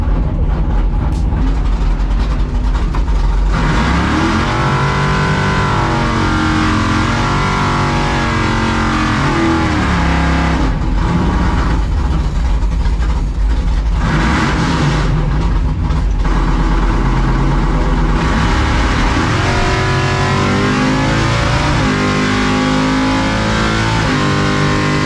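Supercharged car making a drag strip test-and-tune pass, a loud, close engine roaring and revving through shifting pitches and gear changes, dense and continuous throughout with no talking.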